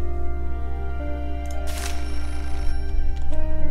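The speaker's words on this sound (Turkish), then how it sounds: "Telefon." Telephone ringing in the video game Beholder, a bright ringing burst rising over a steady droning music bed, heard once clearly in the middle and briefly again near the end.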